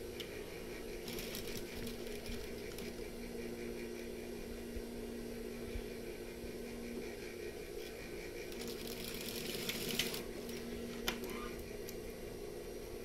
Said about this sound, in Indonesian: lalu kita jahit seperti ini